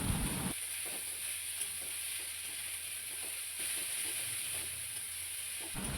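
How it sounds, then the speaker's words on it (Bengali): Leftover rice tossed with vegetables in a hot pan gives a continuous close sizzle, broken by regular scraping stirs of a spatula. "এবার সবজিগুলোর সঙ্গে ভাতটাকে ভালোভাবে মিশিয়ে নেব।"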